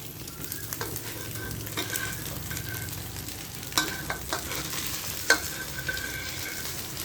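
Fried rice being stir-fried in a pan, a soft continuous sizzle with intermittent spatula scrapes and a few sharper clinks, heard close but at low volume with no talking.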